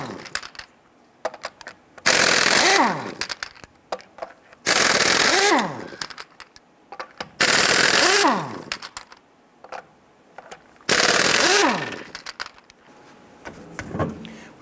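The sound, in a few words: wrench with 19mm socket removing lug nuts from Ford Mustang wheel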